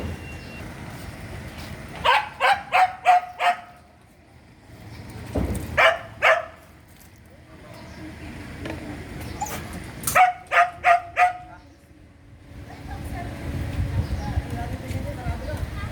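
A puppy at a mobile dog refugee center in Cubao, Quezon City, lets out three close bursts of rapid high yips and barks with whimpers between them, and voices murmur in the background.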